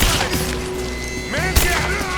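Gunfire rattles through a firefight in the video game Rise of the Tomb Raider, a steady barrage of shots with a heavier thud near the end, under shouted voices.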